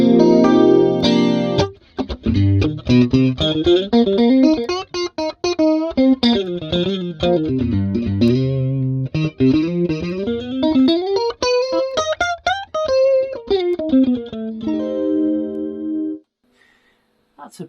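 Electric guitar played through a Roland JC-120 amplifier with its stereo chorus engaged, captured on ambient room mics; a shimmering, warbling run of notes and chords climbs and falls for about fifteen seconds, then stops abruptly.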